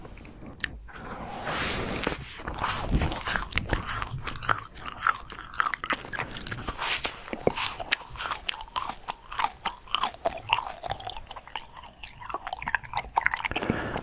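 Close, steady chewing of cotton candy with soft crunchy bites repeats throughout, a wet, crackly mastication sound continuing for several seconds without talking.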